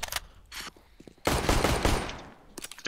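Gunfire in a tactical shooter game, scattered single shots followed by a dense burst of rapid automatic fire, loud and close, with a few more shots trailing off at the end.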